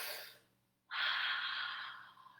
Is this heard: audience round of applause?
no